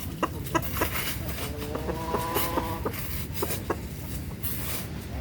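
Backyard chickens clucking in a series of short, repeated calls over a steady outdoor background hum, fairly close and moderately loud.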